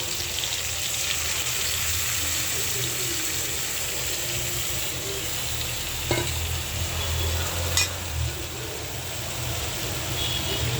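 Potato and cauliflower with spices sauté in a pan, a continuous close sizzle with occasional spatula scrapes and clinks, steady and fairly loud with no voices.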